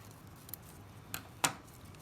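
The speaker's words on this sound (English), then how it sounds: "I'm going to snip this" Scissors snip tape during piñata making: one faint click, then two crisp close cuts, the second louder and sharper, against quiet room tone.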